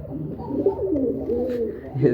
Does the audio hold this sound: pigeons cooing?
yes